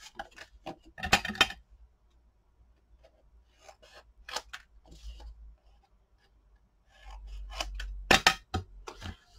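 Scissors cutting paper for a mini album, a few close crisp snips in short bursts separated by quiet pauses, with a faint low hum underneath.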